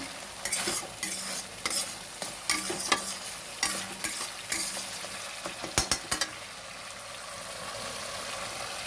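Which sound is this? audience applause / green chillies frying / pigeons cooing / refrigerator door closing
green chillies frying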